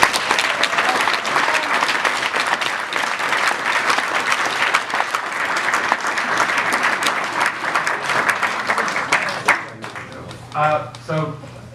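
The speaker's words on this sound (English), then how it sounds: "Can we get a round of applause for the agencies?" An evening audience at a community event applauds for the agencies, a full steady round of clapping that tapers off after about nine seconds as a few voices talk.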